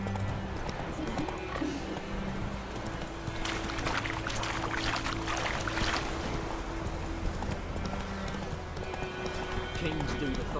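Hooves of the horse Roach in The Witcher 3, a steady clip-clop of riding under music and game ambience, with someone talking over it.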